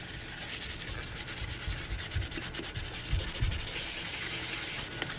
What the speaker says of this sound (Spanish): Con el lado un poquito más duro de la esponja voy a jabonar aquí el lavamanos para sacar toda la suciedad